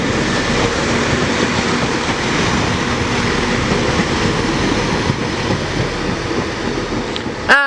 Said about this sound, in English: incoming now we have another 197